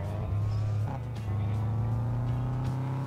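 A Subaru car engine in a multiplayer driving game revs up and holds a loud, steady drone, close and alone, with brief higher rev surges and a faint hint of tyre noise.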